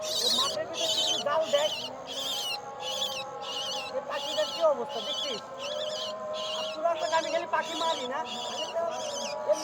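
A trapped myna bird calls from inside a drain, its repeated bright chirps coming in a steady rhythm of bursts about every second, close and fairly loud, with people talking throughout.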